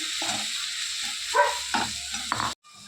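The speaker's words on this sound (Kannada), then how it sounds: "ಇವಾಗ ನಾನಿಂದ ಪೇಸ್ಟ್ ಮಾಡಿಕೊಂಡ ಮಸಾಲೆ ಹಾಕೊಳ್ತಿದ್ದೇನೆ. ಇದು ಫ್ರೈ ಆಗಲಿ ಸ್ವಲ್ಪ." Masala paste sizzling and frying in a pan for egg kadai masala, a steady close hiss with occasional stirring scrapes, stopping abruptly near the end.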